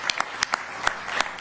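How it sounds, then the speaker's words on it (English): At a city council meeting, a thin round of applause comes as a handful of separate, sharp hand claps spaced irregularly over a faint room background. "we'll give you a round of applause"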